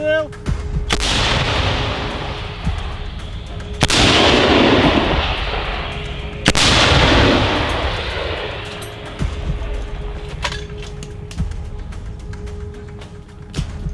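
Three heavy artillery blasts boom out several seconds apart on a battlefield near Bakhmut, each a sharp loud report trailing into a long rumbling echo over distant background noise.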